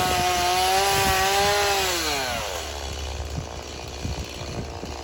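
A chainsaw cuts through wood at a cabin build site in the rain, its engine note dropping as the chain bites in, then churning under load with scattered knocks of wood.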